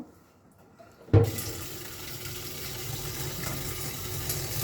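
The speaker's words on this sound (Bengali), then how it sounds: "এবার নতুন জল দেব" Fresh filtered water starts pouring into a cleaned jar filled with washed stones, an abrupt onset followed by a steady, close rushing flow.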